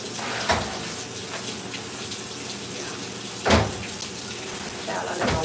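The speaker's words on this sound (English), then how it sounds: "I let my water run." Tap water running steadily into a kitchen sink, a continuous hiss with a few brief clatters and splashes.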